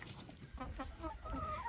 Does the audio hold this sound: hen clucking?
yes